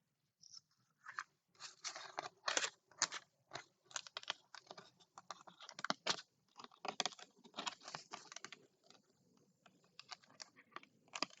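Small scissors snip through paper for an Easter shadow box craft kit. The cuts come close and quiet, as a quick, irregular string of crisp clicks and slices with short pauses between bursts, and no one speaks.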